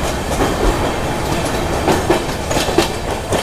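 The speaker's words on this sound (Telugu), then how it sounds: "ఇక్కడైతే మంచి రేస్ జరుగుతుంది మెమో ట్రైన్కి మన ట్రైన్కి" An express train and a MEMU train run side by side, giving a loud steady rumble with rapid clickety-clack wheel beats heard from on board, with no talking.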